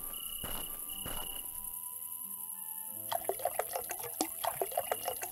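A character drinks water in the video game Animallica, a quick run of rhythmic gulping and splashing water sounds over steady background crickets and ambient game tones, with no talk.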